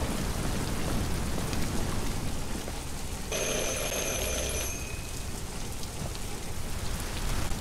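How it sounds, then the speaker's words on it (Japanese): Steady rain falls in the Detroit: Become Human game scene, a continuous wash of drops on surfaces with a brief electronic chime-like tone ringing partway through. "なんでカーラ編はだいたい雨な？"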